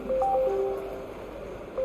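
Short beeping telephone dialing tones from the Tales from the Borderlands video game, a few quick distinct tones in sequence, fairly quiet and alone.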